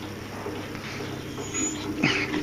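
A rescue dog whimpers softly in a low, thin whine against a quiet room, with a slightly louder, rising whimper toward the end.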